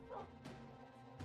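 Dogs in Minecraft bark in quick, faint yips, one near the middle and another at the end, over a low background hum.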